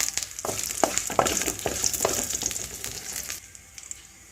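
Curry leaves and dried red chilies frying in hot oil in a pan for a Kerala karkidakam curry, a steady crackling sizzle broken by sharp pops and stirring clatter, close and fairly loud, fading quieter near the end.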